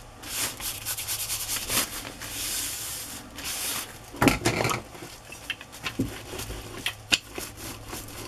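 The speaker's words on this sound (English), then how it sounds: "Going to rub my glue all over the tag." Glue rubbed over a paper tag by hand: a steady close-up scratchy rubbing, broken by a few light taps and bumps.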